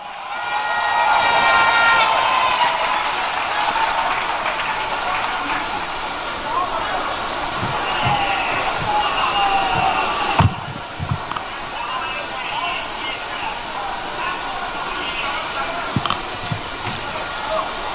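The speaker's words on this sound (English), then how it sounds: "with a round of applause, welcome to the microphone the Minority Leader" A large outdoor rally crowd at the NDC 2024 manifesto launch applauds and cheers in a dense, sustained roar, with whoops and whistles rising and settling, while an amplified voice speaks over the noise.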